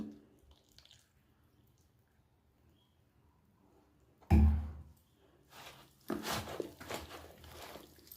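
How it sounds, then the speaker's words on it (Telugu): Half a kilo of peanut oil glugging from a bottle into cucumber pickle, a sudden wet pouring splash after near silence, followed by softer sloshing and trickling close by. "1/2 కేజీ ఆయిల్ పోసానండి శనగ నూనె"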